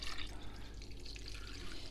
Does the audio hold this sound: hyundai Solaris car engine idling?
no